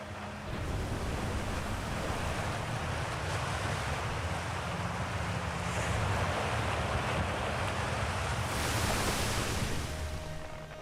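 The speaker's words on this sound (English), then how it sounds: "Imagine water being this loud." Loud rushing water in the video game Outer Wilds, a steady broadband roar like surf and wind that holds for the whole stretch and swells slightly toward the end, with no voices over it.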